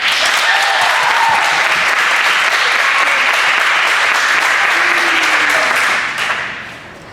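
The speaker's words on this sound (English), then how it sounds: "So, will you please join me in giving Sydney Chaw a round of applause for earning All Academic?" Loud, sustained audience applause at a high school field hockey awards ceremony, steady for about six seconds before tapering off near the end.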